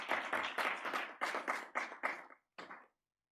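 Applause at a plenary session of an international conference, a crowd clapping in several short rippling bursts, loud and close, with a brief gap before a final short round.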